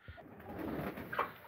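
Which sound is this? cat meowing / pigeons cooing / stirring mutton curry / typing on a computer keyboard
pigeons cooing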